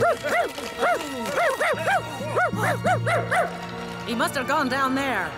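A dog barks and yips repeatedly in quick bursts, fairly close, while a person speaks over the barking.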